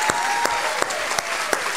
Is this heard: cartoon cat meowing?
no